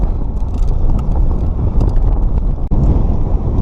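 Strong wind buffets the microphone on the Sevenmile Rim slickrock trail near Moab, Utah, a loud, continuous low rumble with gusty swells.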